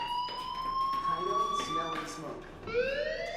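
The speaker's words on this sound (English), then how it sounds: "do you hear that fire alarm? That means you should be outside." A fire alarm sounds in the video game Life Is Strange, with loud wailing electronic tones that sweep upward, pause briefly, then rise again.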